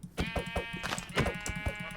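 A sheep bleating in the video game Minecraft, a wavering nasal bleat with a buzzy harmonic tone sustained across most of the moment, fairly close and clear over a soft low background.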